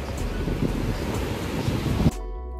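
Strong wind roars against the microphone with a dull surf-like rumble, then cuts off abruptly near the end.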